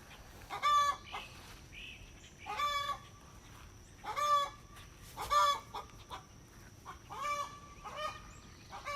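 A backyard garden hen cackles loudly while laying an egg, repeating sharp, rising squawks in bursts about once a second, with no talking.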